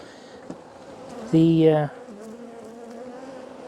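Italian honeybees hum in an open hive during an early-season inspection, a low steady drone with one louder buzz passing close by, under brief speech.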